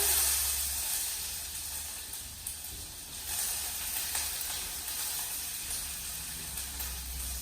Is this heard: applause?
no